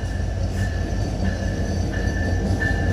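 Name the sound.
meter gauge train entering Natore railway station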